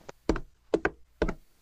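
Knocks on a wooden door in a radio drama, three separate bursts of two or three raps each with short pauses between, close and crisp against a quiet background.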